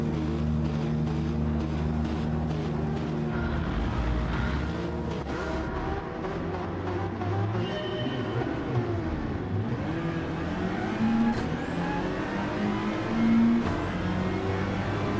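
Grid of race cars in a racing video game launches from a standing start at Trial Mountain, a dense, continuous engine roar with layered revving that rises and shifts pitch as the pack accelerates away together.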